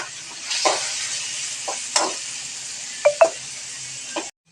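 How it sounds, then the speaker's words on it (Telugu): Chopped tomatoes sizzle softly in a pan for gongura chicken while a spoon stirs and knocks against the pan in a few sharp strokes, close and clear, with no talking. "టమాటా వేసుకున్న తర్వాత మొత్తం మంచిగా కలుపుకోవాలి,"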